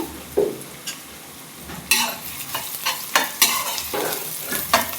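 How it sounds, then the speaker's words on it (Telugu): Vegetables and green chillies fry in a pan while being stirred, with repeated scraping strokes and metallic clinks over a continuous close sizzle. "పచ్చివాసన పోయినంత వరకు బాగా ఫ్రై అవ్వాలండి ఫ్రై అవుతుంది ఇప్పుడు పచ్చిమిరపకాయలు కూడా వేసాను"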